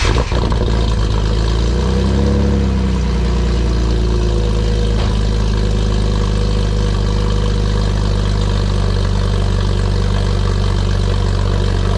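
A BMW E46 idles with newly fitted aftermarket headers, giving a steady, loud, low rumble that holds evenly throughout, with a brief swell in the first few seconds.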